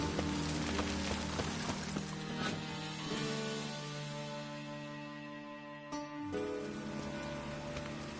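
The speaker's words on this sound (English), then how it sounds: "I like rain. Keeps the rogues indoors." Steady rain patters in the background of a scene in The Witcher 3 on PS4, with music tones and occasional clip-clop footsteps, fairly quiet overall.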